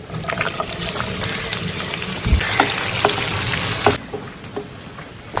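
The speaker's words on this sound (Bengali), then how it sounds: "সামান্য নেড়েচেড়ে নেওয়ার পরে আমি এখানে কোঁচানো পেঁয়াজ দিয়ে দেবো।" Sliced onions frying in oil with loud crackling sizzle and stirring scrapes, easing to a quieter sizzle near the end.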